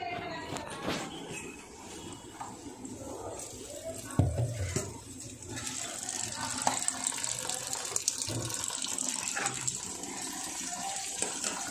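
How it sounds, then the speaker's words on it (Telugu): Rice being washed and water poured over it in a home kitchen while making paneer dum biryani, with running, splashing water and a few sharp knocks, fairly close with a voice talking alongside. "మొత్తం ఒకసారి వాష్ చేసుకుని వాటర్ పోసుకొని"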